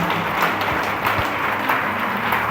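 A church congregation applauding during a worship service, steady dense clapping that carries on evenly for a couple of seconds with faint voices mixed in.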